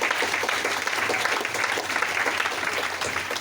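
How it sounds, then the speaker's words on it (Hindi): An audience at a DXN seminar bursts into applause, a thick and steady roar of many hands clapping that carries on evenly throughout, fairly loud and close. "जोरदार ताली डीएक्शन के लिए"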